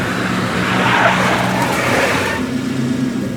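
In the Max Payne video game, a big black Mercedes roars close by with engine noise and a long tire squeal across the whole stretch, loud and continuous.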